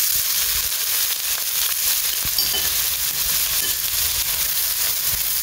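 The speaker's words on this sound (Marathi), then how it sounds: "चलय पयलीं न्ही घालता 2 बे लीव्स मागीर घाले आमचे चॉप्ड ऑनियन्स" Chopped onions and bay leaves frying in a pan for Konkani-style palak paneer, a steady loud sizzle and crackle throughout with occasional sharp pops, no voices.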